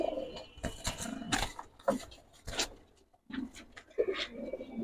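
Silver Mushaldom pigeons coo close by in soft, throaty bursts, several calls separated by short pauses, with some rustling and handling noise around them.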